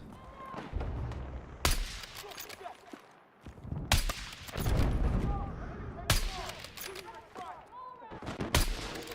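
Gunfire in the Battlefield 6 battle royale, with bursts of automatic fire, sharp single shots and heavy booms, some close and loud and others distant, mixed with battle noise and a voice talking.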